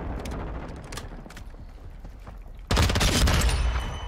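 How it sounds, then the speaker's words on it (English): Gunfire in Modern Warfare 2 multiplayer: dense bursts of shooting throughout, jumping to a loud, sustained automatic burst in the last second and a half. "I hear you shooting over here."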